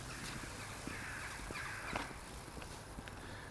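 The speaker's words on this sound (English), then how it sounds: "A few rooks, crows," Rooks and crows caw faintly in the distance at the edge of a woodland beside a road in winter, scattered harsh calls over a steady outdoor hiss.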